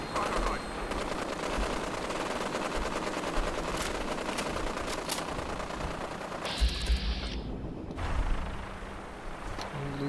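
Crossfire in the video game Fallout 4: continuous rapid machine-gun fire rattling throughout, with occasional louder individual shots, at a moderate level under game ambience.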